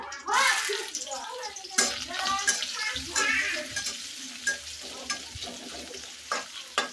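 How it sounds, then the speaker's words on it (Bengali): Chopped onion fries in hot oil in a village kitchen, a bright continuous sizzle with stirring scrapes and clatters, a voice talking over it. "তো এটা একটু গরম তেলের মধ্যে ভাজা ভাজা করে নিতেছি"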